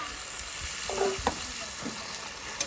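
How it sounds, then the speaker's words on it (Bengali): Goat meat dropping into a pan of spice paste and fried onion, sizzling softly at close range with a few stirring scrapes and a sharp clink near the end. "মশলা কষানো হয়ে গেছে, এবার আমি মাংসটা দিয়ে দেবো"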